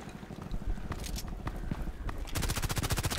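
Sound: gunfire from the 91 weapon in the Contract Wars video game

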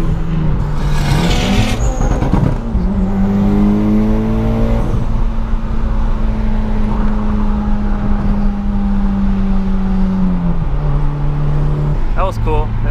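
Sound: car engine revving on the highway, tires squealing

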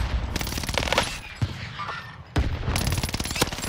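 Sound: gunfire in battle royale video game

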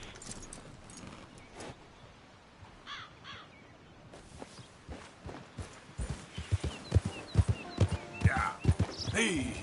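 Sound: horse hooves clip-clopping in a PS4 video game

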